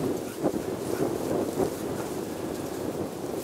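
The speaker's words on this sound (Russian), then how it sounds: "Ветер сильный поднялся." Strong spring wind buffeting the microphone in low rumbling gusts, continuous and fairly loud, with no talking.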